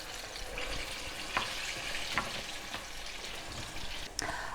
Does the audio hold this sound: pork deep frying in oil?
yes